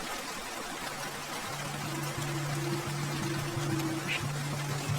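Rain in an animated cartoon falls as a steady, dense patter at low volume, with a faint low humming tone running underneath for much of the time.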